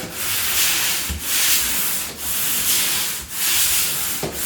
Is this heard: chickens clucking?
no